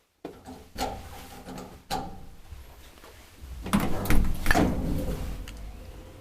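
Doors of an old Semag traction elevator in Järvenpää: a couple of distinct mechanical thumps, then a louder rumbling slide with rattling clatter as the panels move, heard up close with no speech.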